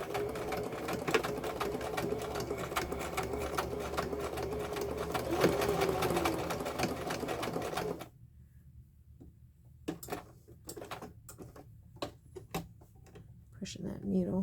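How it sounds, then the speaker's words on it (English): Sewing machine straight stitching through scrappy quilting fabric, a loud steady mechanical run for about eight seconds, then stopping to near quiet with a few faint clicks and handling taps afterward. "I'm just going to straight stitch"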